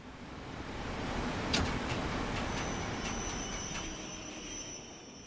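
A London Underground 1972 stock tube train in Train Sim World 5 braking to a stop, with a rumbling rolling roar, a sharp clunk, brief metallic squeal bursts and a thin sustained whine near the end.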